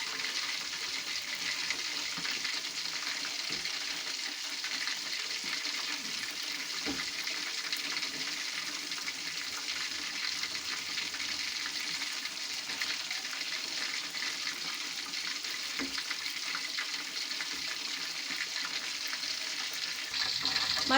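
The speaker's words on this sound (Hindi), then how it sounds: "और दूसरी साइड से भी अच्छे तरीके से इसको पका लेते हैं।" Chicken pakora sizzles steadily in hot oil in a pan, a constant crackling fry with occasional soft stirring clicks and no voices.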